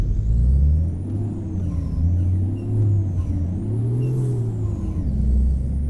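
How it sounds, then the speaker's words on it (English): A 1994 Volvo NH12 truck in American Truck Simulator drones with a deep, steady engine rumble whose pitch rises and falls as a gear is missed, with a faint high whine riding on top. "I just missed a gear there completely."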